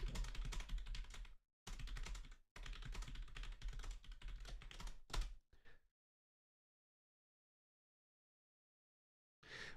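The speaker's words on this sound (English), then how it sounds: "I will just type it in the chat again" Someone types rapidly on a computer keyboard into a chat, with dense bursts of clicking broken by short pauses, then several seconds of silence before a brief final burst.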